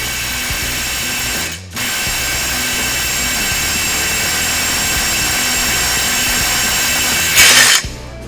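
A Milwaukee, Snap-on or Mac impact driver hammers loudly and continuously during a torque test, with a brief pause early on and a harsher burst near the end.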